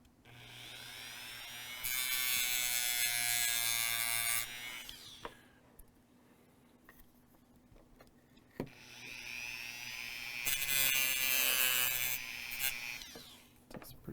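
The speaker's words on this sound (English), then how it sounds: "so the sander is spinning this direction." A rotary power sander smooths the side of a wooden bridge piece with two loud, steady buzzing runs of a few seconds each, separated by a quieter pause with light handling clicks.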